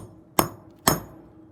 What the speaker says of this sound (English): to flatten the rivet area for the ring, you can either just use a simple hammer, or you can use a flattened punch